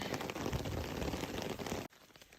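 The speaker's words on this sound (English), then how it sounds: "Here comes the hail." Hail rattles on a tent at a campground along the Continental Divide Trail in Colorado, a dense, steady patter of small impacts that stops abruptly near the end, leaving a faint hush.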